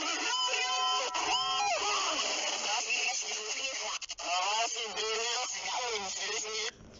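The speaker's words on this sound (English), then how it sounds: "Rate this Brunei alarm in the comments." Brunei EAS emergency alert alarm, a continuous loud electronic warble of sweeping, siren-like tones that run steadily for several seconds with brief dropouts, no voices.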